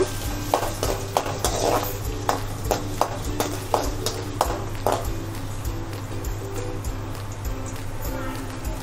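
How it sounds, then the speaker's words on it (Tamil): Ginger sautéed and stirred in hot oil in a pan for a crab curry: a utensil scrapes and clinks in a steady rhythm against the pan over a constant low hum, with only a faint sizzle. "இஞ்சி சேர்த்து லைட்டாக வதக்கிக்கோங்க"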